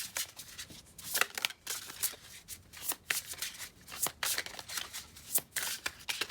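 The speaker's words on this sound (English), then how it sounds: "with this deck, sometimes the shuffling does take a while" A tarot card deck is shuffled by hand in repeated crisp riffles and slides, close and fairly loud, in uneven bursts with short pauses between them and no talking.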